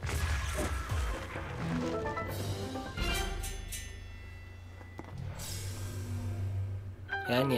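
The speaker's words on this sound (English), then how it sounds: "And yes, you can destroy trees." Crashing and whacking hits strike a tree as it is destroyed in The Legend of Zelda: Breath of the Wild, with several sharp impacts over game music and effects, fairly close and prominent.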